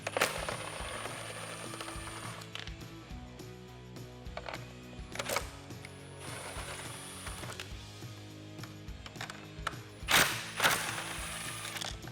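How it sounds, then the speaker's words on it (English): A ratchet wrench backing 10mm nuts off the grille shutter of a Ford F-150, heard as faint clicking ratchet strokes and occasional sharper metallic taps against a steady low hum. "There's 4 10mm nuts. We're gonna remove all of those."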